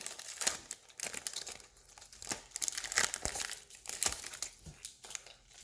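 Pokébox Pokémon card packaging being opened, with close, busy crinkling and crackling of plastic wrap in irregular bursts, alongside some tearing.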